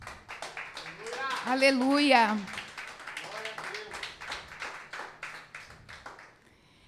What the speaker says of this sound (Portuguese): Adorem o Senhor com aplauso.